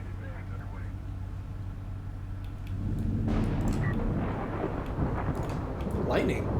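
Thunder rolling through a storm in the strategy game Homeworld: Deserts of Kharak, a low continuous rumble that swells louder halfway through, with crackling bursts over the deep roar.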